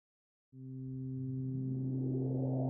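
A steady synthesized tone from the Cakewalk Rapture synthesizer switches on abruptly and holds, its pitch wobbling slightly from LFO modulation while a hissy, noisy layer swells up underneath it.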